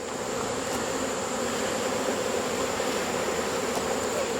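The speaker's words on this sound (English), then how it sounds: "And I'm covered in bees here." Close, enveloping drone of a honey bee swarm, constant and loud without pause.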